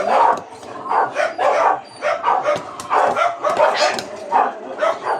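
Several dogs bark and yip excitedly in quick, overlapping bursts, loud and close, with brief whines between barks.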